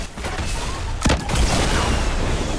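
A single sharp blast of gunfire or explosive impact in Fortnite Battle Royale's High Explosives duo mode, rising briefly out of a constant busy game din.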